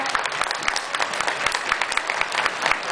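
Steady, close applause from a crowd at the Fenarroz 2010 themed parade, many hands clapping continuously and briskly for the full stretch, with faint voices mixed in.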